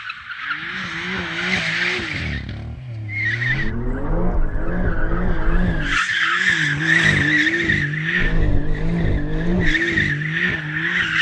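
Tires shriek and squeal continuously as a car spins donuts, a loud, wavering high squeal over a revving engine that rises and falls through the turns.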